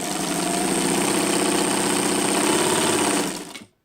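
Vintage Janome New Home sewing machine running fast at its maximum stitch length through fabric, a steady close whirring motor with rapid rhythmic needle clatter that stops abruptly at the end.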